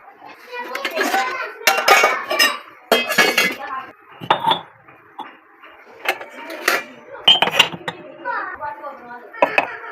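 Metal breakfast pots, plates and cutlery clink and clatter as they are set out and stacked in a Pakistani village home, coming in repeated bursts of close clanking, with people talking and a voice throughout.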